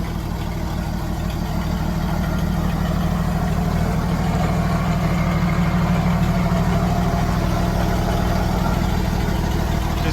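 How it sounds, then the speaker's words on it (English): A 1938 Chevy coupe engine idling on its own, a steady low rumbling drone that holds evenly and loud throughout, with no voices. "Sitting here idling all on her own."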